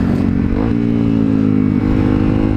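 A motorcycle engine revs hard in the cold for a winter wheelie. The throttle climbs and holds as a loud, close, rough drone throughout.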